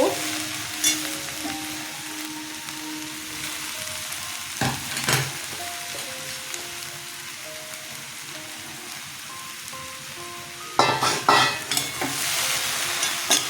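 Cabbage frying in a pan with fried potatoes stirred in, for a vegetarian cabbage ghonto, giving a steady sizzle with scraping stir strokes and louder clatter near the end, no talking.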